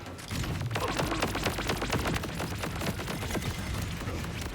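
Rocket barrage in the video game Borderlands 4, a rapid dense stream of overlapping blasts and crackling impacts, loud and continuous for several seconds with no talking.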